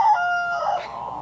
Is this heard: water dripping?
no